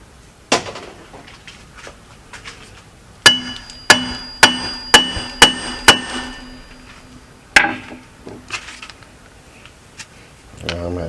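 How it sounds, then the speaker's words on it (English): Sharp metallic hammer strikes on a part of a 2003 Polaris Sportsman 500 ATV: one early hit, then a rapid series of about six ringing blows, and a few more scattered taps later, close and loud. "I might be able to smack it with a hammer and pop off."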